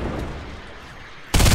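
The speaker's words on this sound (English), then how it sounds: "Rockets coming at us." Rocket fire in the video game Fortnite during a squad match, a steady rumbling roar that swells into a loud, sharp blast near the end.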